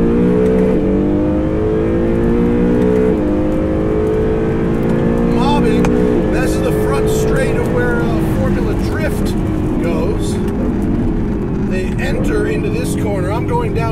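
A 2019 Acura NSX engine pulls hard on the Long Beach Grand Prix street circuit, loud and sustained, its pitch climbing through a gear and easing off, with someone talking over it throughout.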